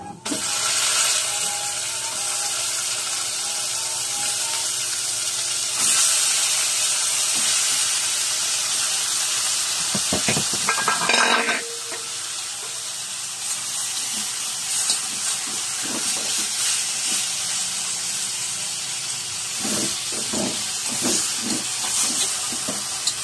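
Chicken pieces hiss and sizzle loudly in a pan of hot oil for chicken curry, a steady frying roar with a sharper burst of spattering partway through as pieces go in.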